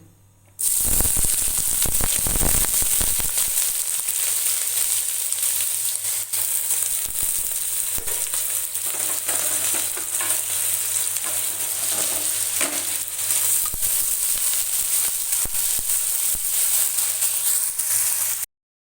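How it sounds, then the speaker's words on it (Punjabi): Finely chopped potatoes frying in hot oil in a Punjabi home kitchen, a steady loud sizzle with occasional stirring scrapes running continuously for the whole stretch. "ਹੁਣ ਇਸੇ ਤੇਲ ਵਿੱਚ ਆਪਾਂ ਬਰੀਕ ਕੱਟੇ ਹੋਏ ਆਲੂ ਫਰਾਈ ਕਰਾਂਗੇ"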